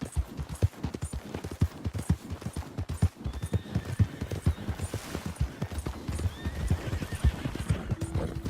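A horse in the video game Red Dead Redemption 2 clip-clops steadily along with a rapid rhythmic hoofbeat, joined by a neigh and whinny partway through, close and continuous throughout.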